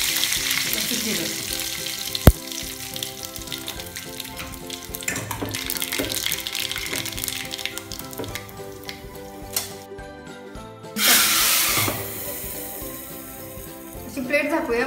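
Cumin seeds added to hot oil already tempering with mustard seeds give a continuous crackling sizzle with scattered pops, then a brief surge of louder hissing near the end, and a voice speaks faintly in the background.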